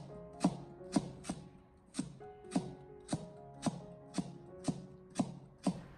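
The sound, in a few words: knife slicing white radish into thin slices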